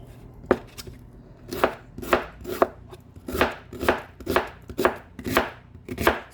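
An onion sliced with a knife for a Swiss mushroom bacon meatloaf, about a dozen crisp chops in an even rhythm, close and clear with no talking.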